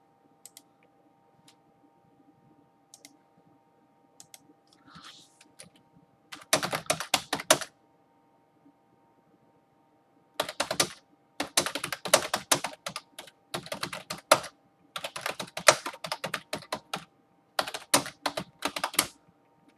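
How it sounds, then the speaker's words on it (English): Fast typing on a computer keyboard to chat in Discord, close and crisp, coming in bursts of rapid clicks separated by quiet pauses over a low steady hum. "I am typing to some people in Discord, so you may hear that a little bit."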